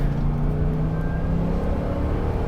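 A car engine runs close and loud, holding a steady droning rev with a faint rising whine as the gas pedal is pressed, alone without any talking.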